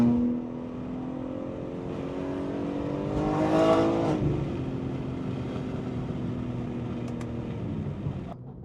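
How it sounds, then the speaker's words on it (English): Supercars leave a small car meet with loud exhaust, one car revving and sweeping past nearby, its engine note rising and then falling away into a steady roar of traffic. "getting to hear the cars fly by as they leave was a pretty cool experience"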